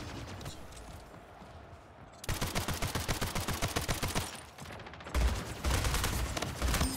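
Guns rattle in rapid automatic bursts in Splitgate, a Halo and Portal crossover shooter. A long fast volley comes first after a quieter stretch, then a second close burst follows after a brief pause.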